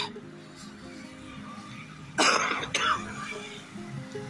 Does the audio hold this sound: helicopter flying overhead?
no